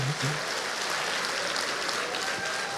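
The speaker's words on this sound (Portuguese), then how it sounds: "Dê um aplauso ao Senhor." A church congregation applauds, a dense steady roar of many hands clapping that fills the whole stretch without pause, with a brief low voice at the very start.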